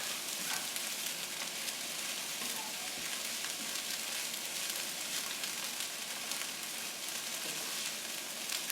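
Shrimp fried rice with vegetables sizzles hard in a hot pan, a dense, even, continuous crackle that stays loud and steady with no talking.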